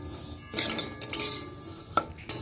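A utensil scrapes and clinks against a pan while vermicelli fries in oil until reddish, with a few sharper metallic knocks among quiet stirring.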